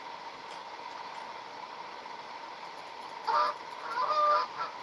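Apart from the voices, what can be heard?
mallard duck calling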